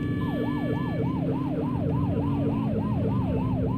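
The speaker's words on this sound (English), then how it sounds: "You're only meant to use the siren in emergencies." A police car siren in The Precinct video game wails in a steady, rapid up-and-down yelp, loud and close, with engine rumble underneath and no talking.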